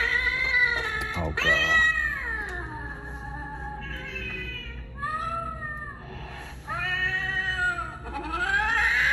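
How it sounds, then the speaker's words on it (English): A Halloween toy cat from a Target store gives off a string of loud, drawn-out electronic meows and yowls, close by and nearly continuous, with brief pauses between cries. "I didn't know the cats make noise"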